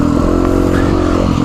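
A GPX FSE300R motorcycle ridden on dirt roads, its engine droning loud and steady at close range with some rattling clatter over the whole short stretch.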